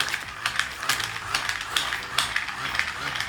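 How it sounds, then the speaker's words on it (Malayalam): Rapid mechanical clicking and whirring from a small hand-cranked fan, a steady ratcheting rattle with uneven bursts, close by. "ഈ ഒരു ഫാനിൻ്റെ കാറ്റ് കണ്ടോ"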